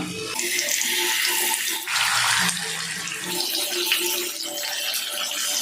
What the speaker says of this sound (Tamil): மீன் ஆயிலில் சேர்த்து ரெண்டு நிமிஷம் ஆயிடுச்சு